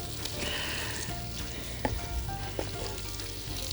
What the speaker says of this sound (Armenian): հեսա ավելացնում ենք բուլղարական պղպեղները, տապակում ենք